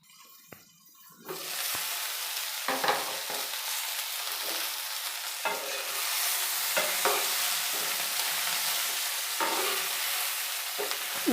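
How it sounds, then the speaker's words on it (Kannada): Okra and potato curry frying in a pan with salt and chilli, a steady close sizzle with a loud hiss throughout and soft stirring scrapes recurring every second or two, starting after a quiet moment. "ಹಾಕೋ ಉಪ್ಪು ಖಾರ ಎಲ್ಲ ಚೆನ್ನಾಗಿ ಈ ಪೀಸ್ಗೆ ಹಿಡಿಬೇಕು ಅಲ್ಲಿ ತನಕ ಸ್ವಲ್ಪ ಫ್ರೈ ಮಾಡ್ಕೋಬೇಕು"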